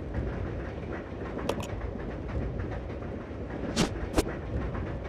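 A train in the video game Resident Evil 0 rolls along with a steady, dense rumble, broken by a few brief sharp clicks and squeals. No voices are heard over it.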